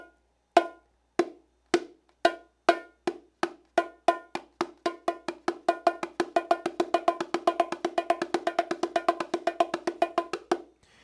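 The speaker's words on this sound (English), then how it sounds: "This uses the open tones from both our index fingers and muffled tones with the remaining 3 fingers." Hand-struck bongos play an exercise mixing ringing open tones from the index fingers with muffled tones from the other three fingers: sparse, evenly spaced strikes at first, then a denser steady pattern, close and clear with no voices.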